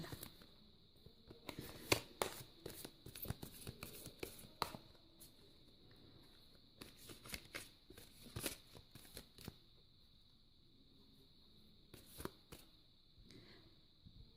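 A deck of tarot cards is shuffled up close in bursts of quick riffling and slapping, separated by short pauses over a faint steady hum.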